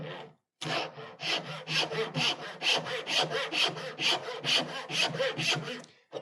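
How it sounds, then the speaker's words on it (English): Dovetail saw cutting into a wooden piece held on a bench hook, with a steady run of rhythmic back-and-forth rasping strokes, close and even after a brief starting pause. "the fence gets my dovetail saw started"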